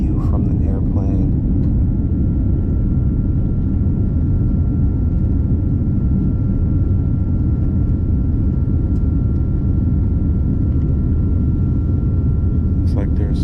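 Airliner cabin noise in flight between Tokyo and Taipei: a loud, constant low roar with a faint steady tone above it, unbroken from start to finish.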